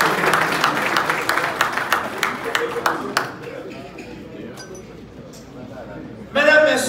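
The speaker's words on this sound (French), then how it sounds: "je vous demande d'applaudir encore une fois le doyen de la faculté de droit et des sciences économiques" An audience at a French university ceremony bursts into applause for the dean of the faculty of law and economics, steady dense clapping that thins out and dies away, leaving quiet room tone before a sudden louder sound at the end.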